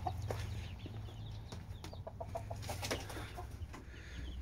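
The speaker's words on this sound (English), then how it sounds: "Let me show you all the chicks." Chicks and chickens on an old homestead cluck and peep in short, scattered calls over a steady low farmyard hum, with no talking.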